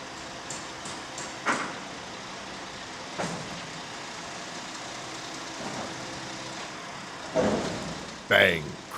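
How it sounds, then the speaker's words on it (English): Heavy empty mortar silo lowered onto a truck, giving several separate thuds and a louder bang with a crunch near the end, over a steady low engine idle. "Bang! Crunch! It's very heavy, even when it's empty."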